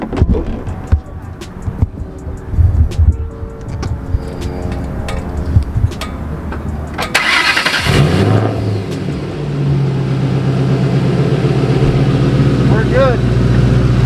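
A Ford Mustang engine cranks and catches around the middle, then settles into a steady, loud idle that runs to the end, with people talking over it before the start.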